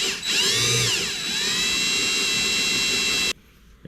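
Power drill slowly widening a small hole in a kayak deck, a steady high whine that dips and rises in pitch over about three seconds, then cuts off.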